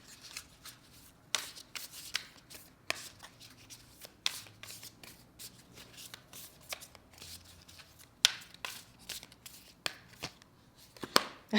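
Oracle cards being shuffled by hand, with a sequence of crisp riffling bursts and soft card slaps in an uneven rhythm, close and fairly quiet, with no talking.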